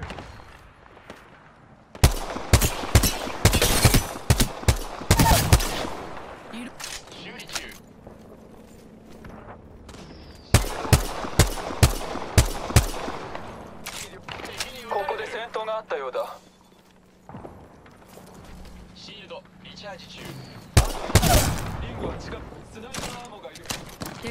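Apex Legends gunfire in sharp repeated bursts of rapid shots, loud and close, separated by quieter stretches with footsteps and game voice lines.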